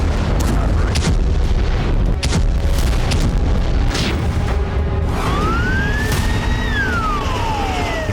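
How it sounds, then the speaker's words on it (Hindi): Explosions strike a large Ukrainian military site during the Russia–Ukraine war: loud booming blasts and dense rumbling fill the scene, with a rising and falling siren wail sweeping through the second half. "और कुछ ही देर बाद यूक्रेन के किसी बड़े सैन्य ठिकाने पर होते हैं धमाके।"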